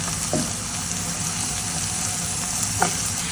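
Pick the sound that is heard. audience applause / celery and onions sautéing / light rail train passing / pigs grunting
celery and onions sautéing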